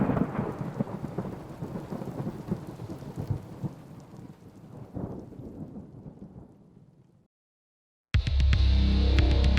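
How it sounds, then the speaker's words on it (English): Thunder rumbling with heavy rain in a radio commercial in the video game GTA Vice City, a loud rolling crash that fades out, then a brief silence before loud music-like sound cuts in. "Because after you get struck by lightning, there's thunder."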